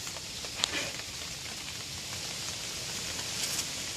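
Steady outdoor rain falls around a makeshift umbrella shelter during a 2001 Chevy 1500 fuel sending unit repair, a dense even hiss with a few sharper drips and taps nearby.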